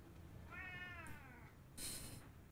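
A cat meows once, a drawn-out rising-and-falling cry, followed by a short higher squeak, fairly close over low background rumble.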